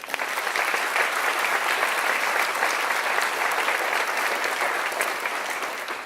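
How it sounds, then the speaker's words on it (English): Sustained applause from a large audience at a county budget presentation, loud and steady throughout with no pauses. "Can we please give them another round of applause?"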